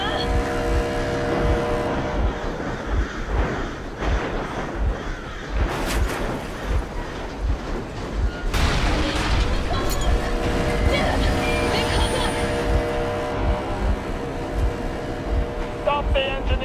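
A vehicle engine runs steadily in the video game Metro Exodus, a continuous loud rumbling drone throughout with rhythmic low thumps, while voices speak over it.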